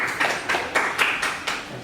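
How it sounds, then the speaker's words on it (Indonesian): A small classroom group claps after a presentation, a short burst of about seven distinct, fairly evenly spaced claps, close and moderately loud with no talking. "Tepuk tangan dulu."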